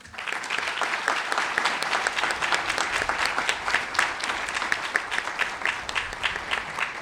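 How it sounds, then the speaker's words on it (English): An audience at the grand opening of a household hazardous waste collection facility claps steadily for the public works staff, a dense, even round of applause that holds at full strength throughout. "I think our public works staff and everybody who did work on this project deserves a round of applause"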